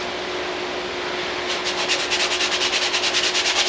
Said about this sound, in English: just take a little sandpaper